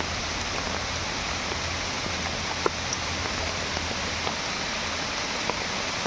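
Steady heavy rain falls in a forest, a constant broadband hiss that stays even from start to finish, broken only by a few faint sharp drops and taps, with no one speaking.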